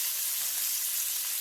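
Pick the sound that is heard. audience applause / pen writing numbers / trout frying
trout frying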